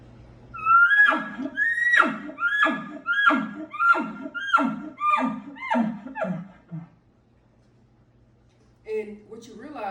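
A hunter's call imitates an elk cow with drawn-out, elongated grunting notes, about a dozen rhythmic wavering calls in a row, loud and close, then a pause and a brief extra call at the end.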